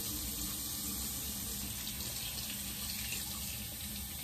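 Tap water running steadily into a bathroom sink during a face-washing routine, a constant soft hiss and splash, close and uninterrupted, with no talking.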